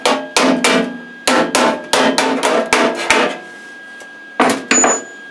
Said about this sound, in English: little dolly, little hammer